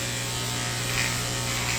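Electric clippers buzz steadily while trimming a thick-coated dog's fur short during grooming, a close, continuous motor hum with a slight change in pitch partway through as the blade moves through the coat.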